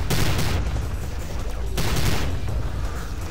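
Gunfire in the video game Prey, a rapid, loud burst of shots and booms that fills the whole moment and pauses briefly midway before resuming.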